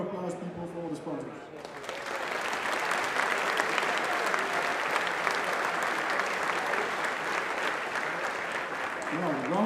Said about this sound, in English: A very big warm applause, people, for all the sponsors